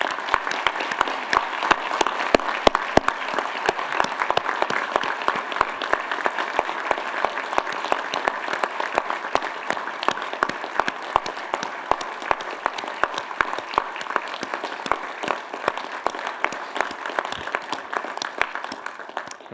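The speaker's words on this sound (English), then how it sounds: "please join me in celebrating the formal naming of Hine Hall with a round of applause" An audience in a hall applauds at the formal naming ceremony of Hine Hall at Indiana University, a sustained round of dense clapping from many hands that holds steady for nearly twenty seconds and tapers slightly at the end.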